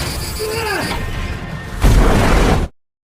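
A film explosion strikes as a sudden loud boom with a crashing burst, preceded by whooshing effects and tonal sound, then cuts off abruptly to silence.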